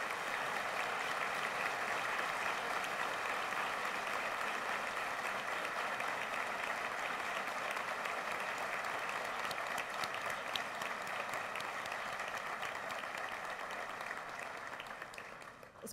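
Sustained applause from an audience at a formal university anniversary ceremony in Costa Rica, honoring a group of students; broad, even clapping from a large crowd that continues for about sixteen seconds and thins slightly toward the end.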